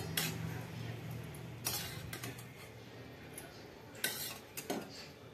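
Half-cooked brinjals are lifted out of a kadai with a spoon, giving close, repeated metallic clinks and scrapes against the pan at an uneven rhythm over a steady background hum.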